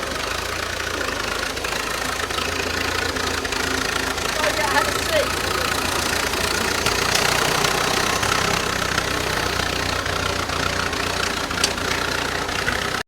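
A classic tractor engine idles steadily just after firing up, a dense continuous rumble with a knocking edge that stays loud and even throughout, with no break or change in pace.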